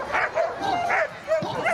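At a dog show behaviour test, a dog gives several close, high yelping barks mixed with whimpers, repeating in quick bursts while people talk faintly in the background.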